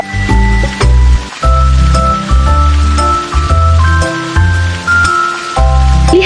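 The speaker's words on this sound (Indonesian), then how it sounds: "Nak, semprotkan air di bawah sinar matahari." Cartoon spray bottle misting water from its nozzle in the sunlight, heard as several short, light spritzing bursts over a steady, bright musical background.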